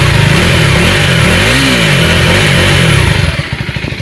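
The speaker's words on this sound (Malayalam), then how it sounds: "നമുക്കൊന്ന് എൻജിൻ ഒന്ന് റെവ് ചെയ്യാം" A KTM Adventure 390 X base-variant motorcycle engine revs loudly and close, the single-cylinder note rising and falling through a sweeping throttle blip before settling back to a pulsing idle.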